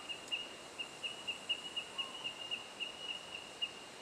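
Bell miner birds in the Australian bush give faint, distant, high bell-like pings in a steady repeating series over quiet background hiss.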